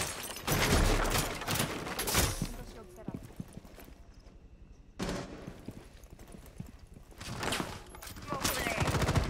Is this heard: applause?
no